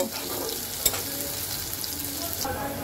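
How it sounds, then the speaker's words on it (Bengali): Onions with green chillies fry in a hot pan, giving a steady, loud sizzle with stirring scrapes and one sharp clink of a utensil against the pan. "এইবার আমি পেঁয়াজটাকে খুব সুন্দর করে লাল লাল করে ভেজে নেব"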